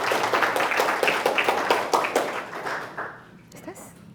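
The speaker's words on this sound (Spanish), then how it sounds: "Y la recibimos con un fuerte aplauso" An audience welcomes a speaker with dense, close applause of many clapping hands that carries on for a few seconds and then thins out quickly into quiet.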